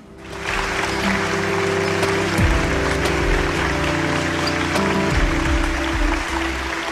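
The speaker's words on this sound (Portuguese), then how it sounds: "Mas a pedido de Mota Amaral, em vez de silêncio, houve muitas palmas." A crowd in parliament bursts into sustained applause, dense and steady clapping that fills the chamber for several seconds, with a low mechanical hum underneath.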